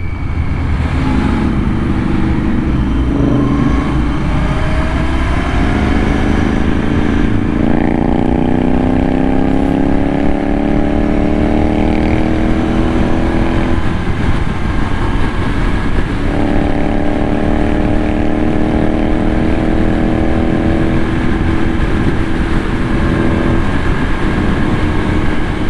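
Royal Enfield Interceptor 650 motorcycle engine running steadily during a road ride near 120 km/h, a continuous loud drone with rising and falling harmonic sweeps as the revs shift, heard alone without talk.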